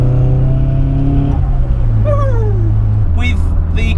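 A modified 350 bhp S14A car engine drones loudly with shifting tones as it revs and changes gear, heard from inside the car with a voice speaking over it.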